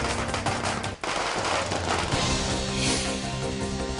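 Strings of firecrackers burst in a dense, continuous crackle with rapid overlapping pops, loud and close. They go off at a street celebration by BJP party workers in Thane after a municipal election result.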